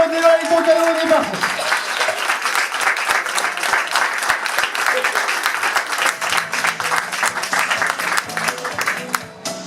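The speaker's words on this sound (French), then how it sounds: "Allez, on peut l'applaudir bien fort" Guests at an evening party give a loud, sustained round of applause, thick clapping and crowd noise after a brief spoken moment, with voices and cheering mixed in throughout.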